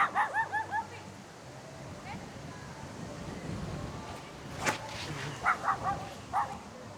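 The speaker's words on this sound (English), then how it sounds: "This dog's mad at me." A dog barks in quick bursts of high yappy barks at the start and again near the end, fairly close, outdoors in strong wind on a disc golf course in Texas, with people talking quietly between the barks.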